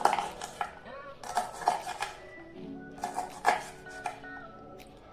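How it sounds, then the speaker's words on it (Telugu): Red chillies with the stems removed are cut into small pieces with a knife on a chopping board, giving repeated clacking knife strikes in uneven bursts. The sound is close and there is no talk. "తొడిమలు తీసుకున్న మిరపకాయల్ని ఇలా చిన్న ముక్కలుగా కట్ చేసుకోవాలి"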